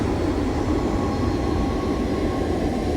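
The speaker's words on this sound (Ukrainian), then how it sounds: "Так, он сідає наш літак." Airliner engines roar steadily as the plane lands in the Airport Sim video game, a loud, continuous broadband rumble with no speech.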